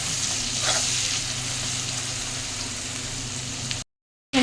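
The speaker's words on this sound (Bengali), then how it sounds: "বাটা দিয়েছি দিয়ে এখন ভাজবো" Ground spice paste frying in a pan with onion and salt for a boal fish curry with potato and tomato, a steady close sizzle with a brief stir, then a sudden gap.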